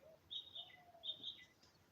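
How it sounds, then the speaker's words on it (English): Birds on a rooftop early on a Sunday morning give two faint, distant high chirping calls about a second apart against a quiet background. "Birds are on the rooftop."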